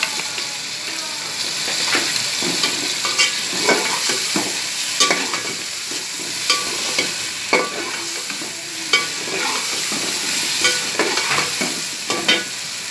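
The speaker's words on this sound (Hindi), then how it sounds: "साथ ही ये मैं ज़ीरा जो है ये मोटा मोटा कूटा हुआ ये 2 चम्मच इसके अंदर डालूँगी।" Coarsely crushed cumin stirred into a hot frying pan for a chicken and bottle gourd curry, with a continuous sizzle and repeated scraping spoon strokes at an uneven rhythm.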